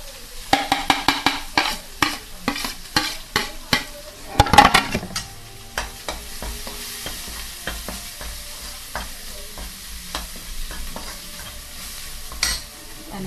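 Chilli powder, garam masala, turmeric and salt are stirred into masala frying in a pan for soybean bhaji. Brisk, loud scraping strokes come in quick bursts over a constant sizzle, then slow to occasional clinks.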